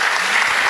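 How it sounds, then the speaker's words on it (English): Audience applause at a postgraduate student symposium, a dense and steady burst of many hands clapping together that stays loud and even from start to finish. "clap please"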